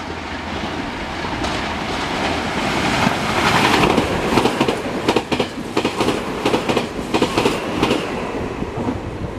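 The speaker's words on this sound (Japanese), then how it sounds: "通過電車です。ご注意ください。" A non-stopping train rushes through Shin-Kiyosu Station at speed, a steady loud roar with rhythmic clacking of wheels over rail joints, no voices.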